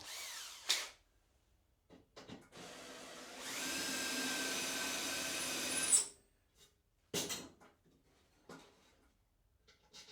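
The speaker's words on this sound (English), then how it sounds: "drill a hole and then drill a countersink for the head" A power drill whirs steadily for a few seconds, pitch rising as it spins up, with short bursts of drilling and scraping before and after, drilling and countersinking holes in steel.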